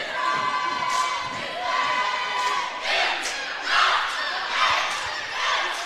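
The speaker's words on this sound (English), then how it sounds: "All that noise from the Comet cheer team caused a second miss and now a foul." A Comet cheer team and crowd at a varsity basketball game in Bauxite, yelling to distract a free-throw shooter; loud, rhythmic bursts of chanting and shouting rise and fall in waves, with sneaker and ball thumps faintly beneath.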